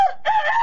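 A man imitates a rooster crowing with his voice, one short, loud, nasal cock-a-doodle-doo cry heard up close and alone.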